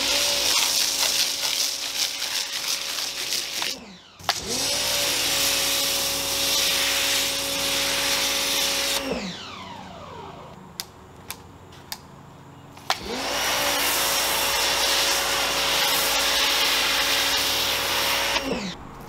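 Wizard's foam cannon driven by an 1800 watt, 15 amp electric motor, whining loudly up to speed in two long runs of about five seconds each, with a quieter pause between them broken by a few clicks.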